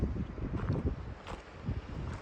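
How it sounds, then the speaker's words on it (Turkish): Low, rumbling gusts buffet the microphone continuously, a rough outdoor wind noise at Patara beach and ancient city in Turkey, with no voices. "ne yazık ki yine rüzgar çıktı, hava kapandı"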